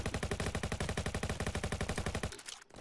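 Gunfire in Roblox Jailbreak, a loud, close, steady automatic burst of rapid evenly spaced shots lasting over two seconds before cutting off.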